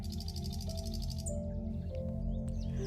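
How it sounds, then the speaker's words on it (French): A nightingale sings in a forest, a bright, rapid series of repeated chirping notes followed by varied whistled phrases, close and clear over a steady background tone. "As-tu entendu le chant du rossignol?"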